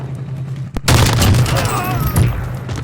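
Gunfire in a shooter video game, with a sharp crack followed by a dense, loud burst of shots and booms that continues for a couple of seconds.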